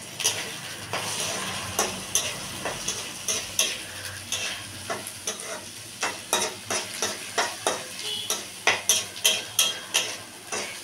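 Chili, coriander and cumin powders are stirred and sautéed in a pan, a low sizzle under repeated rhythmic scrapes of a spatula that grow quicker and louder toward the end.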